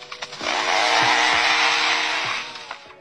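A lyrebird mimics a chainsaw with a loud, sustained buzzing drone that holds steady for about two seconds, preceded by a few faint clicks and tapering off at the end.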